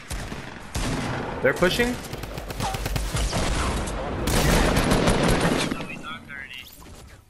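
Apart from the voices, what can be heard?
gunfire in a video game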